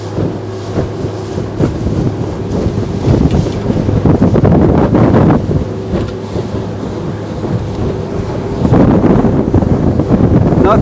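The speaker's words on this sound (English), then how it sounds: "You may hear the engine revving a bit, catching a bit of air" A 2023 Boston Whaler 250 Dauntless boat engine runs steadily under heavy wind and water noise while the boat turns, with the engine rising and revving in surges.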